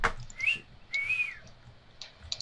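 A person whistles a few short, clear notes, each rising or sliding in pitch, with no talking and quiet between them.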